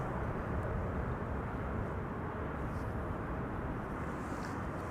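A Lufthansa Airbus A320 in Star Alliance livery arriving at Amsterdam Schiphol Airport, its engines making a steady, broad, moderately distant roar with no breaks.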